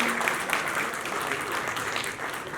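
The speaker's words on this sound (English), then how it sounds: "let's have a big round of applause" Audience at an SBI Life corporate event with cricketers Ravindra Jadeja and Rishabh Pant applauding steadily, a dense wash of clapping filling the whole stretch at moderate loudness.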